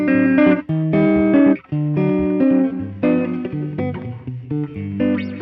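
An electric guitar plays a lively chord-and-riff phrase with no reverb or echo, each note stopping cleanly and close.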